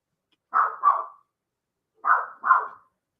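A dog barks in two quick double bursts, loud and close, separated by a short silence.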